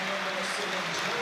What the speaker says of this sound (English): A special cheer for the Hearts number 9 and skipper